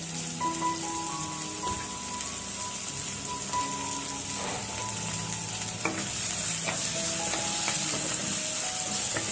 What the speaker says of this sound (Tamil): சேர்த்துட்டு வெங்காயம் கலர் நல்லா சேஞ்ச் ஆகிற அளவுக்கு நம்ம குக் பண்ணி எடுத்துக்கலாம்